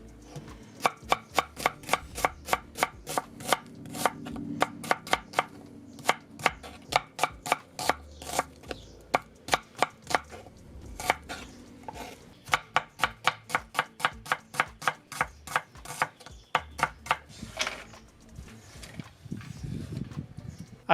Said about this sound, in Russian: Теперь нарезаем репчатый лук. Здесь нет никаких правил, я нарезаю обычными полукольцами.